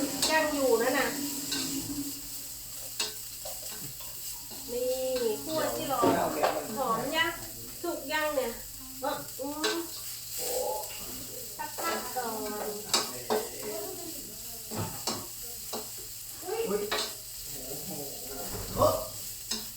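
Meat stir-fries for holy basil in a hot pan, a steady sizzle with scraping and stirring throughout, while people talk loudly over the cooking.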